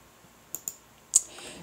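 Computer mouse clicking to open a file, three sharp, quiet clicks, two close together then a third after a short pause, in near silence.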